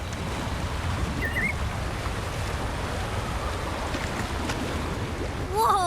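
A big waterfall in the video game Wuthering Waves roars in a steady, dense rush of water that stays constant throughout, with a faint brief chirp partway through and a swell near the end.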